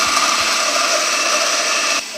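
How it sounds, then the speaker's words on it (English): A countertop blender spins a mix of ice, batter and lemon juice, giving a steady loud whir that holds for about two seconds and then cuts off, with a couple of soft thumps at the start. "You know what I like about this blender, Bobby?"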